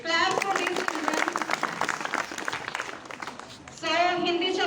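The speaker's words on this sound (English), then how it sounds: "Clap for these children" Children clapping at a school Republic Day celebration, a brisk burst of applause that fades after a few seconds, with a voice speaking over it at the start and again at the end.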